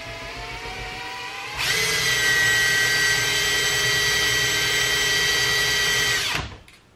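A drill bit grinds into a broken screw lodged in a circuit breaker, a steady high-pitched whine starting abruptly, holding for about five seconds and cutting off sharply, close and loud.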